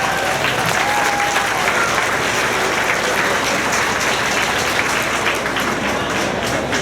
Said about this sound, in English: Let's give them all a nice round of applause.